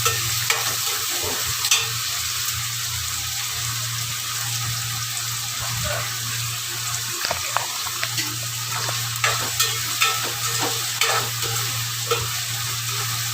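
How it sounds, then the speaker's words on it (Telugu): Chopped onions frying in oil in a pan on a stove, a steady close sizzle with a constant hum underneath and occasional light clicks of stirring. "అదే బాండీలోకి ముందుగా కట్ చేసుకున్న ఉల్లిపాయ ముక్కలను అయితే నూనె వేసి వేయించుకుంటున్నాను"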